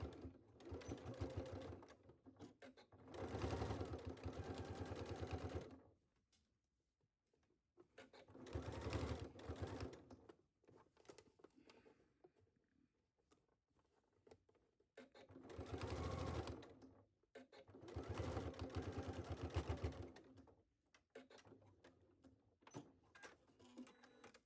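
A sewing machine stitches a single line along a trouser fly front, running in three or four steady, rapid bursts with quiet pauses between them, close and clear with no talking.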